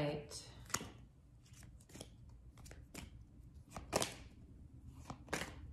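Tarot cards are shuffled in sharp bursts, each riffle giving a crisp snapping flutter, repeated several times at an uneven pace, with a voice talking quietly underneath.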